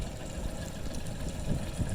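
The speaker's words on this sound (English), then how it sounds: "Got the Honda 45 horsepower." A Honda 45 horsepower outboard motor idles on a small fishing skiff, a steady low rumbling drone with faint mechanical vibration, close and continuous with no voices.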